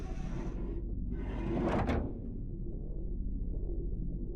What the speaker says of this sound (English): Working the winch will open the door.